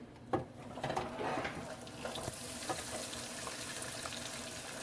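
Sweet potato salmon cakes fry in canola oil with a soft, steady sizzle and crackle, quiet and close, broken by a few small pops and clatters of a utensil.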